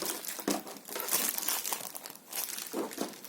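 A plastic bag crinkles and rustles as it is handled and closed with a clip, in loud irregular bursts of crackling close by.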